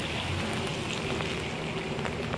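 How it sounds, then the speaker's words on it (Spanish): Heavy rain falls as a dense, steady hiss, heard during a drive in traffic, with no talk. "Está lloviendo bien feo."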